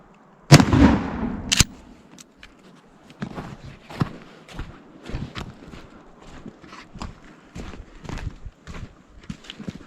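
A Tac 14 shotgun fires number 3 buckshot at 15 yards, giving one loud, sharp blast near the start, followed by a fainter second report and a string of light clicks and handling knocks.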